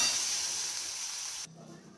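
Chopped onion with cumin frying in a pan makes a loud, steady close hiss and sizzle that cuts off abruptly near the end, leaving quiet room tone.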